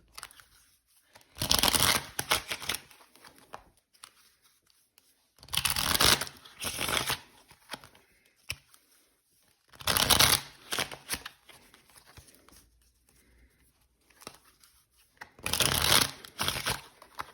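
Tarot cards are shuffled in four quick riffling bursts at a steady spacing, crisp and close, with quiet stretches between and no talking.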